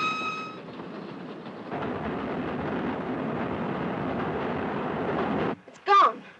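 Steady broadband rumble of a passenger train running on rails, continuous and fairly loud for several seconds, then dropping away before a brief sharp voice cuts in at the end.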